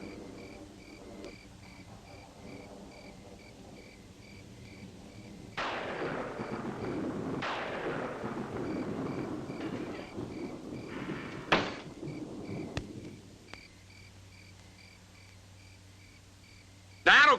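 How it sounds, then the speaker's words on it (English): Thunder during a storm, deep rolling rumbles building mid-clip with a sharp crack near the end, over a steady insect chirp, with people talking at times. "Lightning is sure to start a fire somewhere, Mary."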